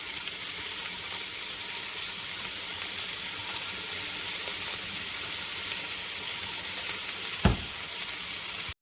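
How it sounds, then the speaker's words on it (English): Beef searing in a hot pan for a stew, a steady, broad sizzle running the whole time with one brief clank near the end, and no voices. "And we're searing the meat."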